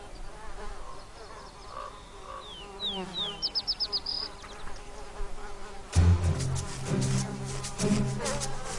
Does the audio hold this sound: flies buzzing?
yes